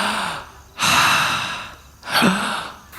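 A patient lying down during a medical checkup takes two long, deep, audible breaths close by, each a breathy rush of air separated by a brief pause.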